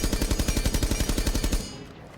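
Rapid sustained automatic fire from a 552 Commando rifle in Rainbow Six Siege, a steady stream of about twenty closely spaced shots over a second and a half before cutting off into a short fading tail.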